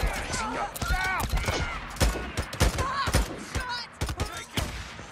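Gunfire in the video game Days Gone, a dense, loud burst of repeated shots and rapid volleys mixed with shouting voices and combat noise.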